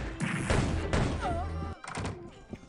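A sniper rifle shot in the video game Arcanum, a sharp loud thump-like report with some reverb, followed by further game sounds and a short tonal sweep.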